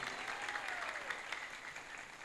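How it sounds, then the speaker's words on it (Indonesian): Audience applause at a religious lecture, a steady wash of clapping from a crowd that carries evenly through the short moment at moderate distance. "moga-moga oleh rekan-rekan tepuk tangan untuk Al Husain."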